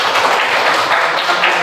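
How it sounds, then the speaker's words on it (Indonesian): A classroom full of students breaks into applause, a dense, loud and steady wash of clapping that lasts a couple of seconds. "Iya, tepuk tangan mungkin."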